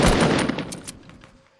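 Fortnite squad-match gunfire cracks out loud and close as a dense burst of shots, then fades into a short decaying tail with no voices.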